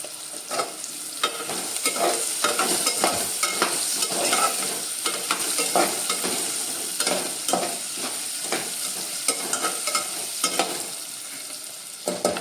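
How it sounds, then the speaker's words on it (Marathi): Potato pieces sauté with onions in an oiled pan for a Konkan-style khichda, a constant sizzle punctuated by repeated close scraping stirs of a spatula. "बटाटा आपल्याला परतून घ्यायचा आहे"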